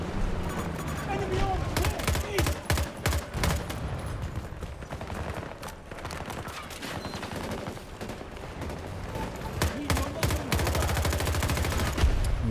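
Rapid bursts of automatic gunfire in the shooter game Battlefield 2042 crack out in dense volleys against a stone, loud and continuous with brief lulls, while someone talks in between.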